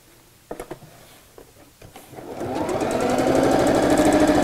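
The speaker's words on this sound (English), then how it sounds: "And we'll sew all the way across the other side." A sewing machine runs a seam across a stuffed dog bed. A few handling clicks and thumps come first, then the motor starts and rises into a loud, fast, steady stitching whir, close by with no talking.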